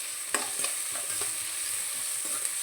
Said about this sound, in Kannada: ಸ್ವಲ್ಪ ಬ್ರೌನ್ ಕಲರ್ ಬರಲಿ ಅಲ್ಲಿವರೆಗೂ ಲೋ ಫ್ಲೇಮಲ್ಲಿ ಇಟ್ಕೊಂಡು ಚೆನ್ನಾಗಿ ಫ್ರೈ ಮಾಡಿ.